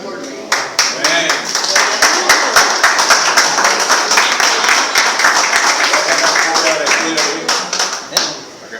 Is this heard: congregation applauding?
yes